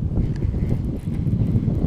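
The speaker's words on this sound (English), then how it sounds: "This wind is getting to be a little bit of an issue." Gusty wind buffets a microphone out on the water during kayak fishing in a summertime backwater, a loud continuous low rumble with uneven surges throughout.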